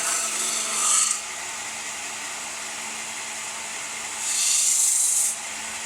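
A Forestwest 4x6 inch 0.5 HP belt and disc sander hums steadily while a piece is lightly pressed to the disc to round off an edge, with two brief hissing rasps of contact, one short and one longer.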